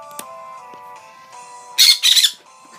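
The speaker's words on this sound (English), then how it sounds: "That's a bird." A faint tonal hum runs underneath, then a nearby bird gives two loud, harsh squawks in quick succession, each lasting about a quarter second.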